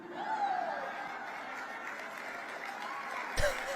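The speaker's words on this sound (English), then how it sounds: "Muted applause from the crowd" Subdued, muffled applause from a crowd at an event with Ted Cruz, low and thin in the background while someone talks over it, with a short sharp bump near the end.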